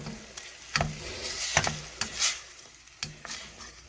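Meat browning in a pot for seaweed soup, with a faint steady sizzle under repeated sharp scraping and clacking of a utensil stirring against the pot bottom, close by.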